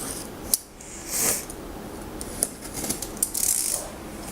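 An HP Omen computer box being opened up close: scattered clicks, taps and a brief rustle of cardboard and packaging, quiet and intermittent, with no talk.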